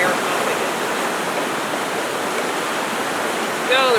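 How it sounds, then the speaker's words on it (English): Steady rushing of water draining back from pump lines into a creek outdoors, a loud continuous wash that holds evenly throughout, with a brief higher squeak near the end. "the rest of that should have back drained into the creek"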